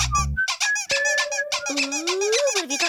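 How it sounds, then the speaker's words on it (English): Harsh, high-pitched squeaks in a cartoon scene, a run of sharp chirping bursts with long whining sliding tones, loud and continuous, with no talking over it. "What is that horrible squeaking sound?"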